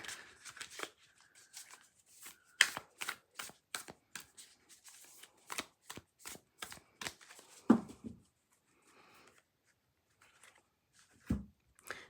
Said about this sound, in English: So they shuffle pretty good.